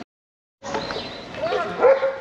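On a cobblestone street in Montmartre, Paris, a dog barks and yips in a short burst, fairly close and clear over a faint outdoor street background.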